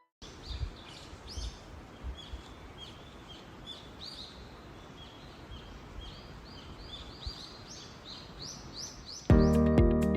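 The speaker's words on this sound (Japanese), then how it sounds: "鳥の鳴き声が聞こえてとても気持ちが良かったです。" Birds chirp and sing continuously in a quiet forest on a mountain pass trail in Nagano, Japan, several calls overlapping at a steady distance, ending with a sudden loud buzzing burst.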